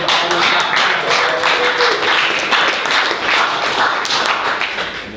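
An audience at a poetry reading in Malvern Books, a bookstore, claps steadily together, a loud dense burst of applause that holds throughout and tapers slightly at the end, with no voices over it.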